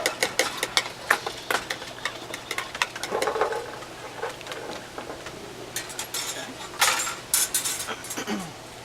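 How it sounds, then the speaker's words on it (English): Spoon stirring rosé wine sangria in a glass container, giving repeated light clinks and taps in an irregular rhythm, close and fairly clear, with a brief liquid swirl in the middle. "before we're ready to serve, you just want to stir it, just to mix all the flavors up"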